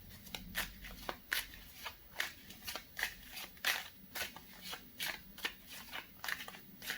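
Tarot cards being shuffled by hand for a reading, crisp riffling snaps in a loose repeating rhythm, close and fairly quiet.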